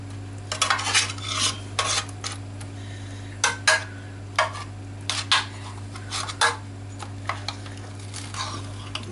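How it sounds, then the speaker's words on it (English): Roast potatoes turned with a metal utensil in a pan of roasting lamb juices: intermittent scraping and clinking strokes over a steady low hum and faint background sizzle, close by, with no talking. "So I'm just going to pop in the roast potatoes and turn them in the juices"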